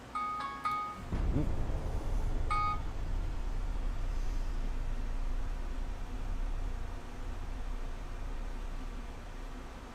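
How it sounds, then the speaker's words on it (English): A phone alarm beeps in short repeated electronic tones at the start, two quick bursts, then gives way to a steady background hiss and low hum. "That's my alarm to wake up for work."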